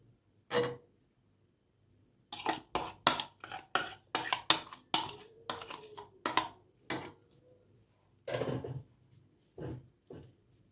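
A spoon clatters and scrapes inside a metal pot while stirring vegetables, in quick irregular bursts, with short quiet gaps between the stirring strokes.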